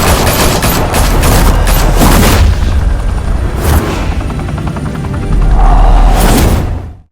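Gunfire in a Batman Telltale game scene: a loud, dense burst of shots and booming blasts, sustained for several seconds with no break, then cutting off abruptly.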